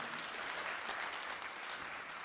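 Audience applauding at a community gathering in California, a brief burst of steady clapping from a group, fairly faint and distant.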